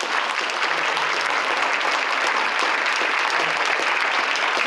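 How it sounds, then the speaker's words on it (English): A luncheon crowd at Fitchburg State gives a congressman a sustained round of applause, a loud, even wash of many hands clapping that stays steady for the whole stretch. "Another round of applause, please, for Congressman."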